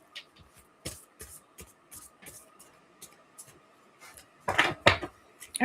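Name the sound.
gently shuffling oracle cards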